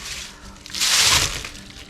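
Water splashes onto a newly planted southern arrowwood (Viburnum dentatum) shrub in a short, near rushing pour that swells for about half a second before fading.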